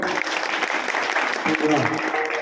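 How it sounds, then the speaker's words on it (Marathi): An audience at a village kirtan during an Akhand Harinam Saptah in Babhalgaon gives a burst of steady clapping. The applause carries on without a break, with voices mixed in. "सगळे टाळ्या वाजवा यांच्यासाठी"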